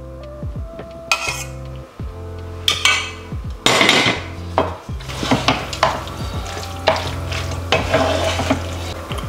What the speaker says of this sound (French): Il ne reste plus qu'à tout mélanger.